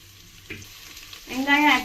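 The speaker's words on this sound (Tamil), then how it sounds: "வெங்காயம் ஆட் பண்ணியாச்சு. இத கோல்டன் ப்ரௌன் கலர் வர வரைக்கும் நல்லா மிக்ஸ் பண்ணிக்கோங்க. நல்லா வதக்குங்க." Sliced medium onions frying in a pan for mutton biryani, with a soft sizzle and the scrape of stirring that swell into a louder, brighter hiss toward the end, heard up close.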